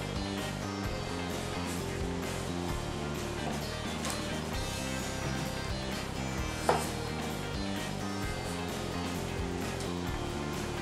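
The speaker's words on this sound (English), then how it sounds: "I'm just cutting a slit down the center of the sweet potato" A knife slices a slit down the center of a whole sweet potato on a board, with a few soft cuts and one sharp knock, heard faintly beneath steady background music.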